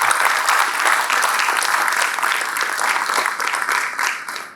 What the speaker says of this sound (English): Join with me to have a round of applause to Mr.